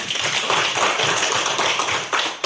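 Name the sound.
classroom applause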